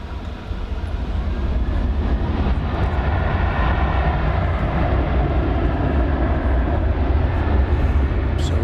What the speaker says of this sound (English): we've still got an American Airlines A321 going to Los Angeles about to take off